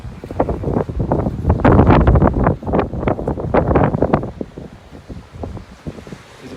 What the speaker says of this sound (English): It's a bit windy though, so apologies for that.